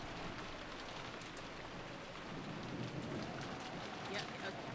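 Steady rain in a visual novel's ambient sound effect, a dense, even hiss of falling rain running throughout at moderate level with faint voices murmuring underneath.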